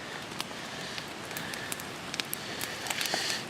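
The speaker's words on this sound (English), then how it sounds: "even if it's raining and it's cold" Steady rain falling at night near a crackling campfire, a soft continuous patter with scattered drops tapping close by and no voices.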